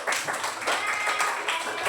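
A small group claps hands in quick, uneven patter, moderately close, lasting a couple of seconds without speech, at a classroom game final.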